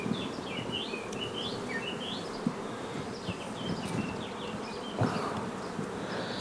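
Honeybees buzz in a dense, continuous hum at an open beehive, close and steady, with birds chirping faintly in the background.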